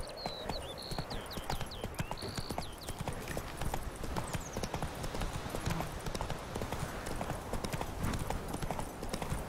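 Steady horse hooves clip-clopping at a trot in The Witcher 3 video game, close and continuous, with faint bird chirps in the background and no talking.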